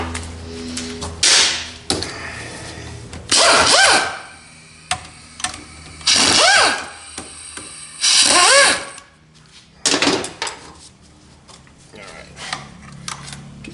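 A power drill or driver with a 45 Torx bit backs out screws from a transmission's rear support in several short, loud whirring bursts separated by pauses, metallic clinks and handling noises.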